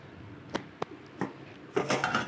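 A lid set onto a cooking pot while chicken biryani cooks in a home kitchen, giving a few separate metallic clinks and knocks followed by a brief rattle of metal, close and fairly quiet.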